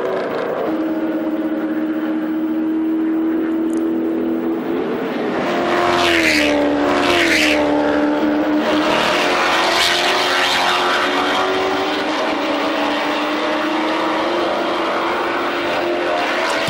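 Chevrolet Lumina V8 race cars at speed on a Bahrain circuit, engines droning loud and close with rising and falling pitch as cars pass and shift, one sustained roar throughout with no talk.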